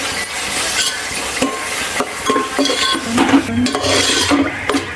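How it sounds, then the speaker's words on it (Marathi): Ginger-garlic paste for pav bhaji is sautéed in a pan, with close, irregular scraping and stirring strokes of a spoon against the metal over a faint sizzle. "आता ह्यात मी आलं लसूण ची पेस्ट जी घातली होती ती चांगली परतून घेतली"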